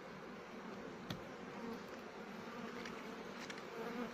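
Honeybees buzz at an apiary hive while colonies are split, a faint, steady swarm hum close around with a few individual bees passing nearer.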